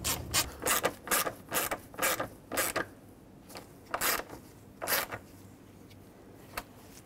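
A ratchet tightens a bolt on the alternator of a 2008-2010 Ford F-250 with the 6.4L diesel, giving repeated bursts of quick clicking strokes, fairly close and crisp, followed by a few isolated clicks with no talk.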